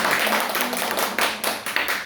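Applause from a small church gathering at a Christian singles worship meeting, welcoming a new accompanist; brisk, close hand clapping with sharp individual claps picking out toward the end, and almost no talking.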